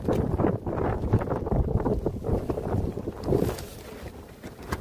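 Strong wind at Everest Camp 4, around 7,900 metres, buffets the microphone in rough, low, gusting bursts that swell and drop irregularly close up, with no speech.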